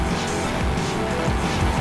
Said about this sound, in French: J'aime beaucoup cette voiture. Elle drifte bien. Elle fait de beaux dérapages.